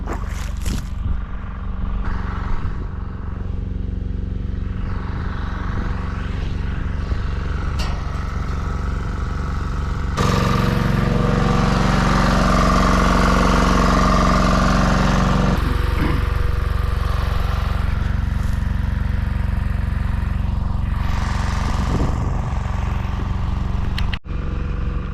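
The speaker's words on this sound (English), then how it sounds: "So that's it, genset's going, pump's gonna go all night" A generator engine running to power a solar bore pump in the outback, a steady mechanical drone that grows louder partway through and keeps going, with no talk over it.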